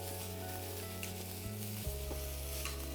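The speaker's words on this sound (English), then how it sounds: "I'm just going to stir fry again." Leftover rice with vegetables and chili flakes is stir-fried in a pan, a steady soft sizzle over a constant low hum and drone, faint and continuous with a few light stirring clicks and no talking.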